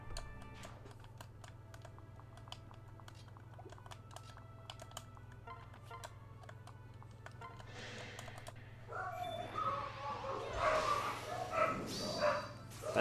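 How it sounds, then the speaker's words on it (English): Dogs barking excitedly indoors, at first distant and faint under steady computer keyboard typing and a low hum, then growing louder and more frantic toward the end. "The dogs are going absolutely crazy."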